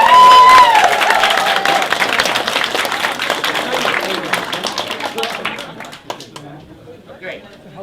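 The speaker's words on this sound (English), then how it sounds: "let's give these people a round of applause" A room of people at a Democratic caucus breaks into loud applause and some cheering, the clapping dense at first and then thinning and fading toward the end, with talk mixed in.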